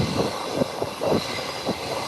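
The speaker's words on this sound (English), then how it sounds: "Here it is, JetBlue Airbus 321" A JetBlue Airbus A321 airliner taxiing along a taxiway toward a parking gate after exiting the runway, a steady distant engine roar and hiss with faint low rumbling pulses throughout.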